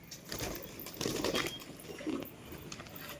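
Loft pigeons, among them a rare wheat-beaked hen, let out and called in: soft low cooing with bursts of flapping wings, fairly close, with no talk over them.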